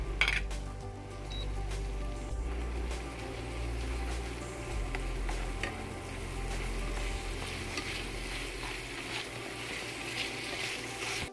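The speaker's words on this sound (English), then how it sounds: "I will put the garlic and onions. I will fry for 2 minutes" Garlic, onions and pork frying in oil for pancit canton, a continuous even sizzle with low rumbling hum underneath, close and steady with no talk.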